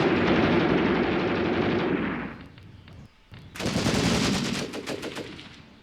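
Gunfire in a trench battle in the war game Graviteam Tactics: Mius Front: a dense, loud burst of machine-gun and rifle fire, a brief lull, then a second heavy volley of rapid shots that slowly thins out.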